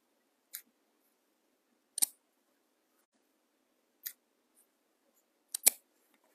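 Scissors snip through material for a tobacco basket pumpkin craft, four or five short sharp cuts spaced a second or two apart in a quiet room, close and clear with no talking.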